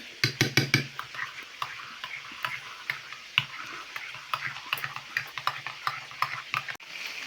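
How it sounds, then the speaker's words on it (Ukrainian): Macaroni and meatballs stirred with milk in a frying pan: a rapid burst of spoon clicks and scrapes against the pan at the start, then steady intermittent tapping and scraping close up, with no talk. "Перемішуємо все добре."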